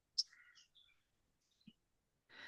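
Birds chirp outdoors in a few brief, sharp tweets and short calls, separated by quiet gaps, followed by a soft rush of background noise.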